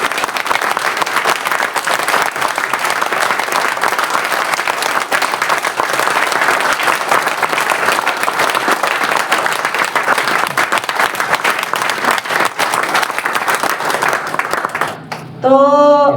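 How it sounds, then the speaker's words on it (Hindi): A large audience at a business achievers training event claps long and loud, a dense roar of hands that holds steady before a voice cuts in at the very end. "जोरदार तालियां।"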